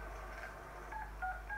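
A mobile phone in the Deadpool video game gives off a short series of electronic beeping tones that grow more prominent toward the end, set over a low, steady hum.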